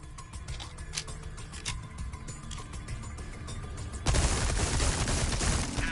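Dense, continuous volley of gunfire from the Resident Evil 4 game, rapid shots layered together, growing louder and fuller toward the end, with no voices.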